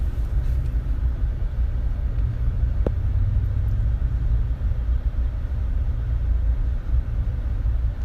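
A truck's engine rumbles steadily from inside the cab while driving, a loud, continuous low drone with road noise and one brief click partway through.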